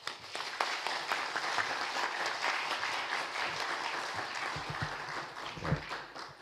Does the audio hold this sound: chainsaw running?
no